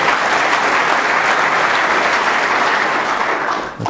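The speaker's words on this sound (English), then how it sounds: "The crowd warmly appreciating how difficult that cut was." Steady, warm applause from a seated snooker crowd at a world championship final after a difficult cut shot, dense clapping holding evenly for several seconds before tailing off.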